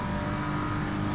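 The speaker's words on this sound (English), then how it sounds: "Hearing that BMW screaming away" A BMW GT3 race car engine in Assetto Corsa Competizione howls at high, steady revs on the Bentley straight at Snetterton, a loud, sustained whine with no speech over it.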